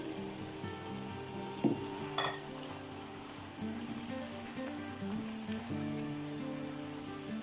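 Chicken fries with freshly added tomatoes in a steady, close sizzle, broken by a few clattering knocks and stirring scrapes.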